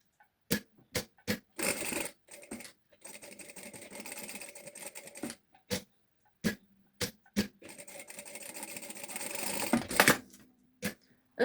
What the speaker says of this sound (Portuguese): Agora vou passar uma costura em cima da linha que eu estive a fazer